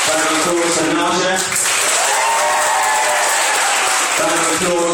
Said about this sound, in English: Round of applause for Naja.